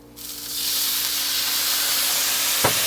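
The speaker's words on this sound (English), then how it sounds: "now we're gonna deglaze using apple cider vinegar" Apple cider vinegar hitting a hot pan to deglaze it, bursting into a loud, steady steam hiss and sizzle that holds throughout, with one brief knock near the end.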